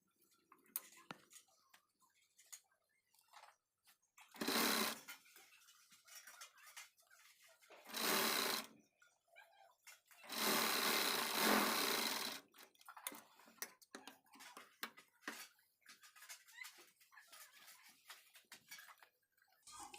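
Sewing machine stitching a seam on a blouse sleeve for a Paithani saree blouse, heard as three separate whirring runs of a few seconds each, with quiet handling and fabric noises between them.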